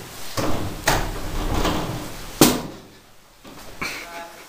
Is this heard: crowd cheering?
no